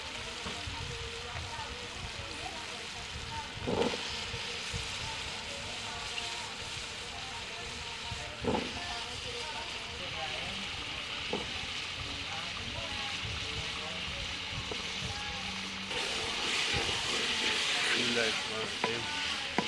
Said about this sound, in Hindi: अब हम पहले डाल देंगे आलू इसमें।